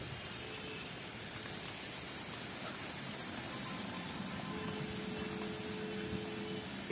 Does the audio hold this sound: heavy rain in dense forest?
yes